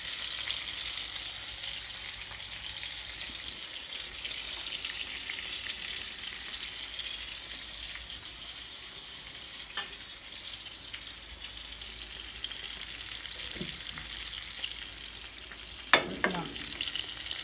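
Naem, Thai fermented pork sausage, frying in a pan: a steady close sizzle and crackle throughout, with a few brief scraping stirs near the end.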